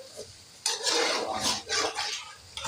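Powdered spices, including ground dry coriander, being stirred into potatoes in a pan for Punjabi-style aloo bhujia, with loud, close scraping and clattering of a utensil against the pan in a quick burst of several strokes.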